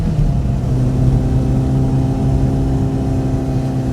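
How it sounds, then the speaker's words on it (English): A small 1977 Autobianchi A112 engine drones steadily at mid pitch throughout, loud and close, with a constant hum and slight rises in revs. "the engine does need to be revved though to make any progress"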